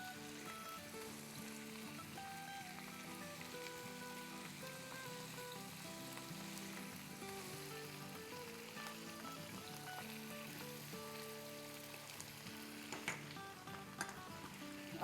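Mutton frying in a pot with two tablespoons each of crushed garlic and crushed green chillies, giving a soft steady sizzle with occasional stirring scrapes and light clinks near the end, and no talk over it.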